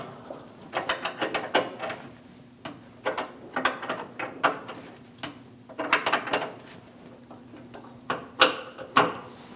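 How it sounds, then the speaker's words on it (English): Wrenches break free and loosen the rear brake line fitting on a 2011-2018 Ram 1500, with repeated close metallic clicks and ratcheting bursts in an uneven rhythm over a quiet background. "we're going to hold this inside while we use a 12mm wrench to break this"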